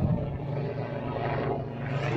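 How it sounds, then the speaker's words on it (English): A steady low mechanical drone of helicopters flying overhead, constant and fairly loud throughout, with a slight shifting whine. "Fucking helicopters!"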